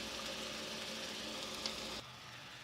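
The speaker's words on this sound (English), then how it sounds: "fry these onions until they turn light brown in color" Chopped onions frying in a pan for a chickpea curry gravy, a steady broadband sizzle that holds for about two seconds before dropping to a quieter hiss, with no talk.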